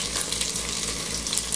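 Bacon frying in a pan of banana farofa: a dense, close crackle and sizzle with quick bursts of popping, brief and without voices.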